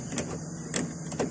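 A key sliding into the door lock of a Nissan X-Trail, giving three brief, faint scraping clicks spaced about half a second apart.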